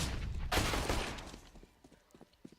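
Gunfire in CS:GO during a pro match between Astralis and Virtus Pro on the Cache map, a dense burst of shots followed by scattered fainter sharp reports.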